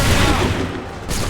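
A musket volley from a massed line in the Assassin's Creed III video game erupts as one loud, close, crackling fusillade that rolls on briefly and then fades.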